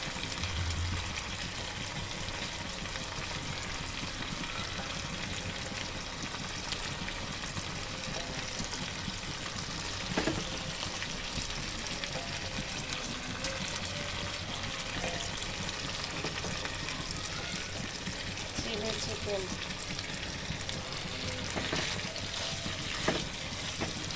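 Chicken pieces frying in a pan of spiced masala for chilli chicken give a steady, close, continuous sizzle and crackle with occasional clinks, and no voices.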